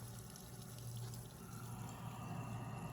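Water pours steadily from an RV quick-connect hose fitting, a continuous close rushing flow with no speech.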